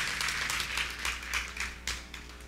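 Churchgoers clap during a Spanish-language service, a short burst of fairly sparse, distinct handclaps over a steady low hum, tapering off within a couple of seconds.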